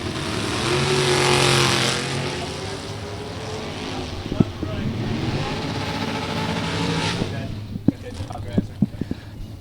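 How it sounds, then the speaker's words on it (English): Drag racing cars with a 429 Ford engine and a 360 cubic inch Chevy engine roar at a national drag racing event, a loud broad engine rush that swells, then fades into a steady din with sharp pops, under a public-address voice. "A 429 Ford is the engine for Seaman. A Chevy engine with 360 cubic inches is the engine for Grundy."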